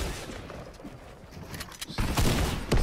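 P90 submachine gun fire in a solo squads battle royale match, a burst of rapid shots building louder toward the end over a low busy game backdrop.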